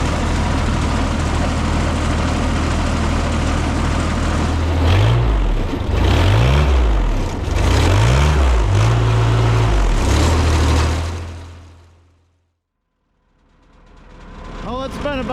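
An old lawnmower engine idles loudly up close with a rough low rumble, rises into a few revs midway, then cuts off into silence before faint sounds return.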